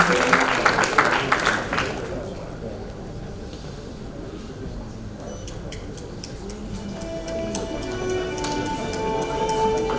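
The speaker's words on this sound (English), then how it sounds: "Let's give him a huge round of applause" Audience applause at a corporate curtain-raiser event for a trade and industry chamber program, a broad wash of clapping that is loudest at the start, then thins into scattered claps under steady room ambience.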